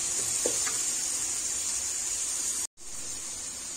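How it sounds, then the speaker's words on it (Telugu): Onions frying in hot oil give a steady, fairly loud sizzle and hiss that runs on without a break, then cuts out for a moment before resuming. "now add onions, just fry in the oil"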